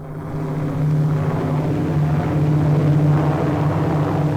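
An airplane drones overhead, its steady engine hum rising in loudness after the first second and holding as a sustained low tone, with no talking.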